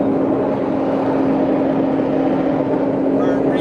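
An Alaskan fishing boat's engine drones steadily and loudly throughout while hauling a halibut longline, a constant low hum with a sustained tonal whine.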